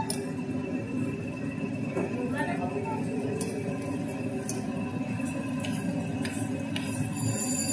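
A spoon scrapes and clinks against a bowl while cornflour is stirred into water, a near, irregular scraping with small metallic chinks under ongoing talk.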